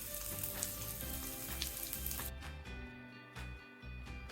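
Sliced onions, sprinkled with a little salt, fry in a pan with a soft, continuous sizzle and crackle, fairly quiet and close, with a faint steady hum underneath.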